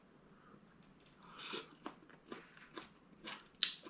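Close, quiet chewing of crunchy stir-fried cucumber with scrambled eggs, a series of soft crisp bites and crunches spaced about half a second apart, with no talking.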